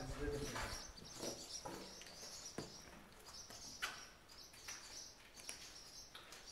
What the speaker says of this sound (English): Birds are pissed, though. They don't like us being here.